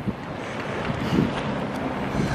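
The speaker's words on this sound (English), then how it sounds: "That wind is just pushing me." Strong wind buffeting the microphone on a street during a river flood, a continuous rough low roar with gusty swells and no talking.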